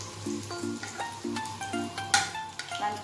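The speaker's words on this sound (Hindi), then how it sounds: "5 फोरन की अच्छी खुशबू आने तक इसको भून लें।" Panch phoron spices and asafoetida sizzle in two tablespoons of hot oil in a pan, a close, continuous crackling fry with short tonal clinks and scrapes from stirring over it.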